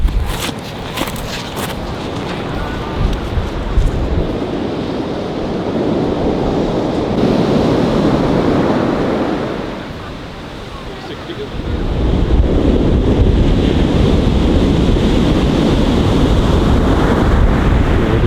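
Ocean swell and surf wash onto Black Sand Beach in Iceland among sea stacks and arches, a loud roaring rush that dips briefly midway then surges back, with wind buffeting the microphone.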